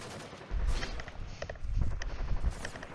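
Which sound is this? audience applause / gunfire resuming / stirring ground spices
gunfire resuming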